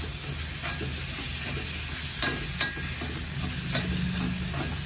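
Chopped tomatoes stir-frying for squid masala, a loud steady sizzle with occasional spoon scrapes and clicks against the pan, no speech.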